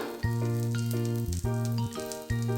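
A sponge dosa sizzles on a hot pan with a steady, close frying hiss that continues without a break, with a few brief dips and clinks from the pan in the background.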